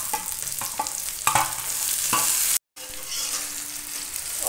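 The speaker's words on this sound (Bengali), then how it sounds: "এবার পেঁয়াজ দিয়ে দেবো। পেঁয়াজ হালকা ভাজা হয়ে গেলে টমেটো কুচি, কাঁচা লঙ্কা কুচি দিয়ে দেবো।" Onions frying in a pan for chana paneer give a steady, bright sizzle with a few stirring scrapes and a brief cut partway through, close and loud with no talking.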